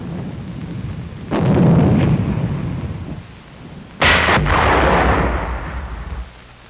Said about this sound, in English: 81mm mortar crews supporting the infantry early in February during the elimination of the German salient in the vicinity of Agno